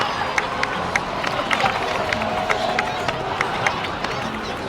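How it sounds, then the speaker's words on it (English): Crowd applause in the video game Genshin Impact, a bright scatter of clapping and cheering from a gathered crowd with sharp individual claps over a murmuring background. "please give another round of applause for them"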